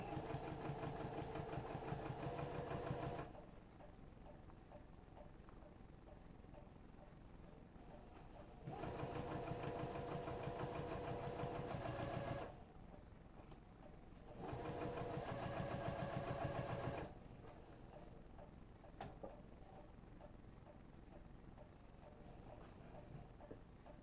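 A sewing machine stitches a bag in three bursts of steady, fast mechanical whirring, each several seconds long, separated by quieter pauses; close and alone without talk.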